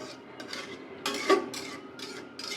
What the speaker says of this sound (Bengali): এই মাছটা বেশি নাড়াচাড়া করা যাবে না। আলতোভাবে একটু নেড়ে দেব